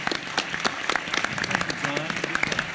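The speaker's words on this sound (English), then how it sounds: "I think we need some applause here as well." An audience at a congressional primary candidates forum gives steady, moderately distant applause from many hands throughout, with a voice talking over it.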